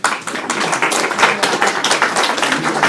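Audience members at an open city council meeting in Nelson break into applause, a dense, loud spread of many overlapping hand claps sustained throughout, close and busy, with no voices over it.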